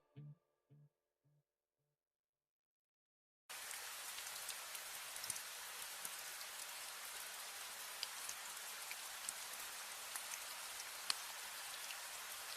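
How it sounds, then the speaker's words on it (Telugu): Rain pours down steadily in a dense, even hiss with occasional louder drops striking a surface, starting abruptly after a few brief thumps and silence, and continuing without any talk. "వర్షం స్టార్ట్ అయిపోయింది."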